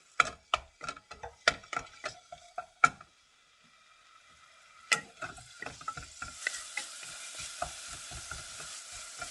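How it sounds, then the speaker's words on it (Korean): Beef is stir-fried in a preheated pan over low heat. A spatula strikes the pan in sharp, irregular clacks, then after a short pause a soft sizzle runs under continued scraping and tapping. "먼저 달군 다음에 고기 볶아요."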